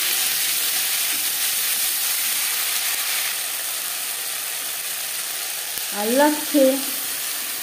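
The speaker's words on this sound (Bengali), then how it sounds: "মাছ ভেজে নেওয়া কড়াইতে আবারও তেল দিয়েছি। দিয়ে দিলাম 1/2 চামচ আদা বাটা, 1 চামচ কাঁচা লঙ্কা বাটা" Ginger paste and green chili paste hit hot oil in a wok for a fish curry, giving a steady broadband sizzle that holds throughout, with a brief voice and a couple of short clinks near the end.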